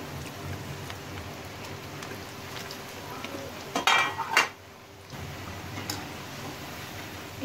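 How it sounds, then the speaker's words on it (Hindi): Pakoras frying in a kadai until crisp, for a makki atta kadhi: a steady, soft crackling sizzle of oil throughout, with a brief clatter of stirring partway through before the bubbling settles back. "और जो बाकी के पकौड़े हैं उनको भी हम इसमें कढ़ाई में डाल लेंगे। और इनको भी हम करारा होने तक पकाएंगे।"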